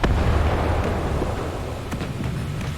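A torpedo strikes an enemy ship in War Thunder, a Yugumo destroyer battle: a loud, heavy rumbling blast with a deep low roar that stays sustained, and a few faint crackles near the end.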